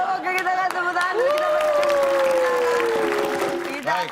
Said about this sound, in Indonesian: kita akan tepuk tangan dulu